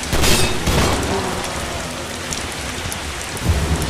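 Heavy acid rain pours steadily in a survival video game, a loud dense hiss with low rumbling like distant thunder underneath, no voices over it.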